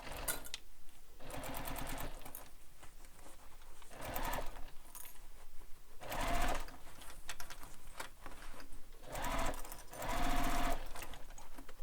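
A sewing machine runs in bursts, sewing the lining gusset, zipper and base gusset of a bowler bag to the main panel, its close motor whirring and needle chattering in several long runs separated by short pauses.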